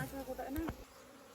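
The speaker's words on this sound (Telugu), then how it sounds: "ఈగలు అయితే గట్టి కుట్టేస్తున్నాయి అనమాట" Honeybees swarm around a wild honeycomb deep inside a hollow as it is cut out, their buzz close and droning in a brief burst.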